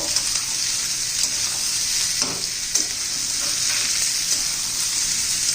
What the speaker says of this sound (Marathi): चांगलं तेलात परतून घेऊ कांद्याबरोबर असं परतून घेतला ना तेलामध्ये भोपळा छान चव येते